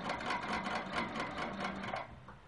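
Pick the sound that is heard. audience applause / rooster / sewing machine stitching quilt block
sewing machine stitching quilt block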